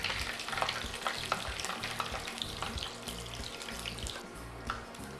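Pakwan deep frying in hot oil, a dense, continuous bubbling sizzle that stays close and steady throughout.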